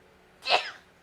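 A single sharp human sneeze, fairly close and brief, breaks out of near silence during a tabletop role-playing session.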